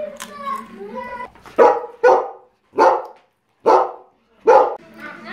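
A dog barks loudly and close in five sharp, evenly spaced barks, following a brief stretch of voice at the start.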